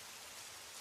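Rain falls steadily, a dense, even hiss of drops with no pauses or distinct hits, filling the whole brief stretch at low level with no voices.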